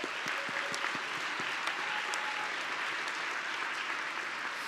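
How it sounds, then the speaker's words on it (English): Graduation ceremony audience applauding in a hall: a steady wash of many hands clapping, sustained and even throughout, somewhat distant, with no voices over it. "Give a round of applause."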